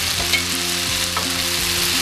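Beef picadillo with tomatillo and onion sizzles steadily in a pan, a close, even frying hiss with a few light stirring scrapes and no voices.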